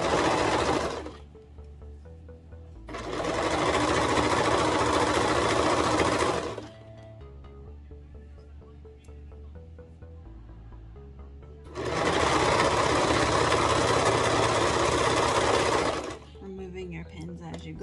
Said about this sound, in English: Okay, and so then I'm just gonna sew this on.